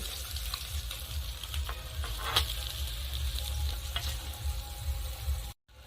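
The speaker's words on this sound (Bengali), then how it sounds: "এখন আমি ভাজা খাওয়ার জন্য বাটা মাছটা ভেজে নেব" Bata fish fries in hot mustard oil with a steady crackling sizzle and occasional louder pops, then the sound cuts off abruptly at the end.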